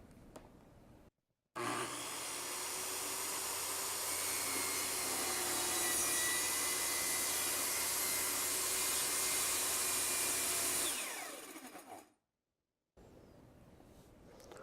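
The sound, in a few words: track saw making a plunge cut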